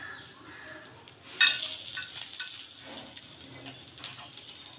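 Bay leaf and garam masala hit hot oil with a sudden loud crackling sizzle at about a second and a half, then settle into a steady frying hiss with small pops, close by.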